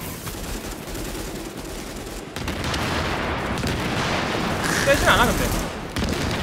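Bomb blasts and gunfire in The Division, a dense burst of explosions crackling like fireworks under players' voice chat.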